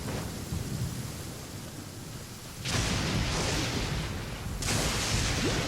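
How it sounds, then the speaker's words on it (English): Thunder from lightning in the video game Genshin Impact rolls in heavy, rumbling waves with two sharp cracks that swell louder, over a constant hiss of rain, with no talking. "Lightning."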